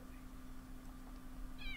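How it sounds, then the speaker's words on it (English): A single short, high meow from a cat in a video game comes at the very end, faint over a low steady background hum. "Meow."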